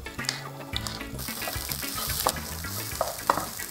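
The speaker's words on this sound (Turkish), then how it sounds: "Pirinci de kavuruyorum." Basmati rice toasting in a pan for a pilaf, giving a steady soft sizzle with light stirring and scraping throughout, no voices.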